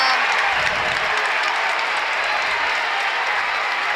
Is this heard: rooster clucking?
no